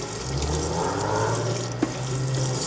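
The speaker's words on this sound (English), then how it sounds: "Just let it run under that cool water." Cool tap water runs steadily over warm cooked potatoes in a kitchen sink, a continuous close splashing rush with no talking.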